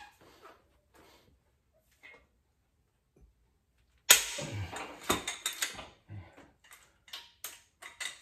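Wrench breaking loose the head bolts on a Subaru WRX engine during a rebuild: after near silence, a burst of metallic creaks and ratcheting clicks comes up close, with several sharp snaps in irregular rhythm.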